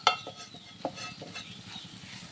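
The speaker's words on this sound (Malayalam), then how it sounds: "മസാലക്കൂട്ട് നല്ല ഇളക്കി കൊടുക്കുക." A spatula stirs masala through softened onion and capsicum in a pan, with a few sharp scraping clicks against the metal over a light, close sizzle.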